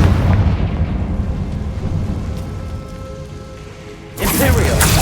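A Confringo fire spell in the Hogwarts Legacy video game goes off as a loud, sustained explosive rumble. It fades briefly, then a second sharp blast bursts in near the end.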